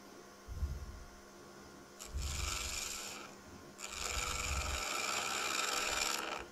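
A square wooden mallet spins on a lathe while a turning tool takes light cuts, giving three separate raspy, scraping passes over a steady motor hum, each pass longer than the one before.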